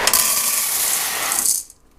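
A pound of dry elbow macaroni is poured into a pressure cooker, making a dense, loud, continuous hard rattle for about a second and a half that stops abruptly, with no talking.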